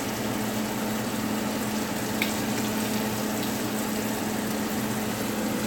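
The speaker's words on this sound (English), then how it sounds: "once again with my whisk, whisking that butter" Melted butter in a pot is whisked, giving a constant, dense, wet swishing that does not change for several seconds. The sound is close and even in loudness, with no talk.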